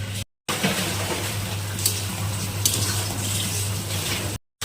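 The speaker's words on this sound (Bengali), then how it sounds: "এখন ভালো মতো নাড়াচাড়া করে নেব" Cauliflower stalks seasoned with turmeric, sugar, salt and chilli stirred in a pan: a steady close scraping and rustling with faint sizzle and occasional clinks of the utensil against the pan, no voices.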